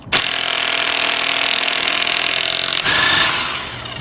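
HYCHIKA cordless impact wrench removing a car lug nut, a loud, continuous buzzing hammer close by that briefly surges partway through before winding down.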